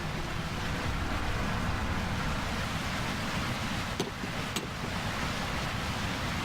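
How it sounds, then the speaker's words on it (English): Steady broadband rush of flowing water in the Myst III: Exile game world, continuous and fairly even throughout with no talk, two faint brief clicks near the end. "So right now the water's flowing through."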